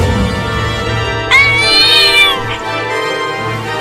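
A cartoon cat gives one drawn-out, wavering meow, loud and close, over a constant musical background.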